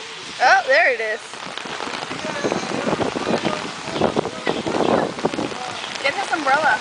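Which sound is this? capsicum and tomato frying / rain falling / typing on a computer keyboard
rain falling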